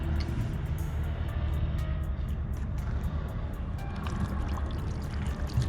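Water poured over a coated car panel, a steady rushing splash and trickle close by with a low rumbling wash underneath, lasting several seconds without speech.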